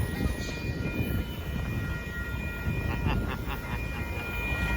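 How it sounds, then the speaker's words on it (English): A Union Pacific sand train of hopper cars rolls past a road crossing in Austin, Texas, as a steady low rumble with faint rhythmic rail clatter, heard from a moderate distance. "There goes that hopper car train."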